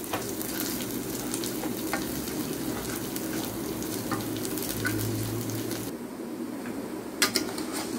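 Breaded milanesas fry and are turned in a hot pan to brown evenly, giving a loud, steady sizzle with stirring scrapes, a shift in tone partway through and a couple of sharp clicks near the end.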